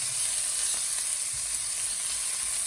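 Onions sizzle in a very hot pan with a continuous soft crackle, broken by occasional light scrapes and clinks as they are stirred.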